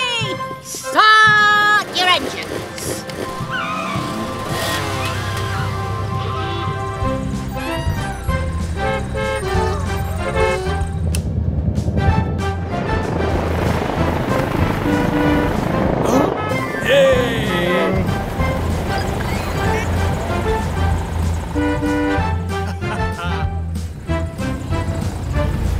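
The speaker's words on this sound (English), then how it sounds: "Start your engines!" Cartoon race cars rev their engines to life in a rush of motor roar and toots, layered with busy music and voices talking throughout.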